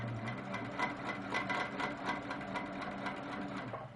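A sewing machine runs steadily, stitching along a quilt's inner border in a fast, even mechanical rhythm of needle strokes, close and alone with no talking.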